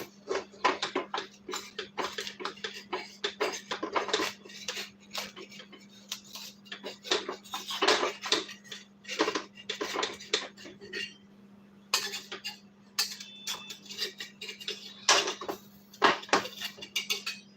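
A sharp metal spatula scrapes and clinks against a kadhai in steady, rapid strokes, close and fairly loud, with a low steady hum running underneath.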